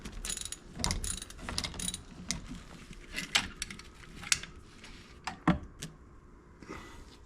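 A hand ratchet clicks in quick uneven bursts while bolts come out of a NAPA belt tensioner during an alternator job, with metallic clinks and taps mixed in, close and fairly quiet.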